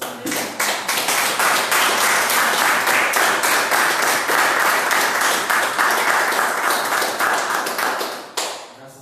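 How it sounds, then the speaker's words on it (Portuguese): A church congregation applauds during a Sunday morning service, a dense, steady wash of many hands clapping for several seconds before trailing off, with little talk. "Se você puder aplaudir o Senhor nessa manhã"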